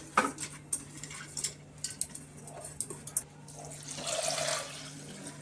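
Mixed lentils are washed in water in a home kitchen, with a metal pot clinking and tapping several times, followed by a swelling splash and pour of water near the end, close and clear without talk.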